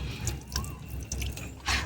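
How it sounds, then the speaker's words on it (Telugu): Water overflowing from filled tanks drips and trickles quietly, with a few soft, irregular splats and a slightly fuller gush near the end. "ఆ ట్యాంకులు నిండి ఫుల్ పోతున్నాయి"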